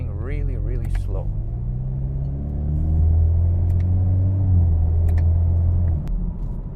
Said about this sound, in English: This is my 2019 Chevrolet Camaro